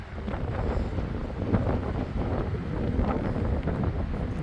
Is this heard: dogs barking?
no